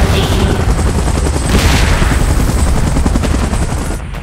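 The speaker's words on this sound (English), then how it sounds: "Chopper in position." A helicopter hovers in the video game PUBG, its rotor thudding loudly and steadily under a rapid, continuous burst of gunfire and booming impacts.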